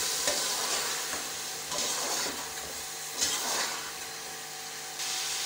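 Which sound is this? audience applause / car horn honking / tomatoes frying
tomatoes frying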